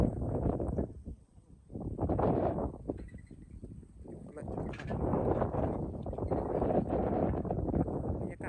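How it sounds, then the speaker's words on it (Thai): Strong wind buffets the microphone while riding along the M6 road on an afternoon trip, a loud rumbling roar that swells and dips throughout with brief gaps. "ลมมันแรง"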